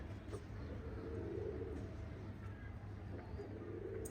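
Soft, low pigeon coos repeat quietly over a constant background hum, fairly distant and muted.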